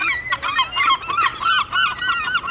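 Coastal seabirds and geese honk and call in repeated overlapping cries at a coastal town in March, fairly loud and close, set as a radio drama sound effect with no voices over it.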